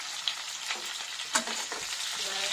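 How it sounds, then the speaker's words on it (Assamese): Sliced onions sizzle softly in a hot kadai over a low flame, a close crackling hiss broken by a few sharp stirring scrapes, with no talk. "এইখিনি ৰঙটো ভাজি ল'ম আৰু ৰংটো সলনি কৰি ল'ম।"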